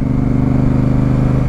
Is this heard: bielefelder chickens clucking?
no